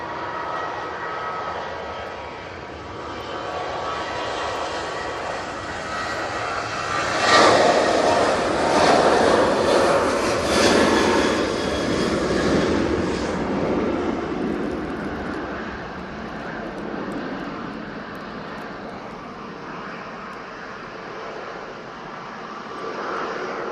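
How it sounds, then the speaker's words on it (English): A Jet2 airliner roars down the runway on its takeoff roll, a broad steady engine rumble that swells louder midway and then holds strong and close, with no talk over it. "Now we've got this Jet2 on the roll."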